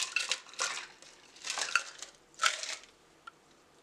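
Ice cubes clatter into a glass of Mauby drink in several separate bursts, bright clinking and cracking knocks spaced about a second apart, close and fairly loud, with no voice over them.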